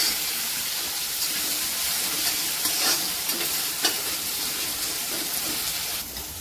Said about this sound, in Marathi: एक कांदा टाकलेला आहे, कांद्याला पण छान असं परतून घ्यायचं आहे। आणि आता इथे कांदा परतून झाला आहे, अद्रक लसूण टाकून परतून घ्यायचं आहे।